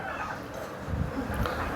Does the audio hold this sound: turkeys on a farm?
yes